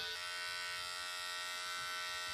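An electric hair trimmer buzzes continuously at close range, a loud, steady motor drone with dense harmonics and a slight catch at the start, with no voices over it.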